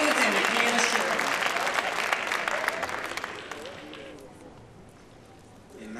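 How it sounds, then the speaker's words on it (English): Loud crowd applause with cheering that swells at the start, then gradually fades away to a quiet hush. "Give her another round of applause."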